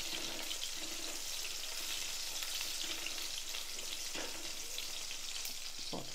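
Onions sautéing in a pan for a mung bean dumpling kuzhambu, giving a steady, close frying sizzle with occasional stirring scrapes, no talk.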